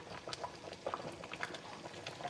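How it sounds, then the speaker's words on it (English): Okra soup with kpomo and chicken bubbling in a pot, a faint, steady patter of soft pops and simmering bubbles. "So it's boiling, right?"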